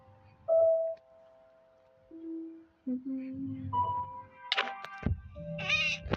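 Synthetic game tones and short electronic meows from a cat character in a video game sound in bursts amid quiet pauses, with a brief loud jingle near the end.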